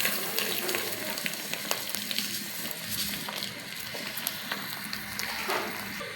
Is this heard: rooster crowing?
no